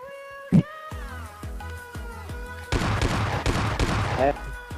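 Gunfire in PUBG Mobile Lite squad gameplay: a sharp early shot, then spaced single reports with ringing tails, building into a dense, louder burst of rapid fire near the end.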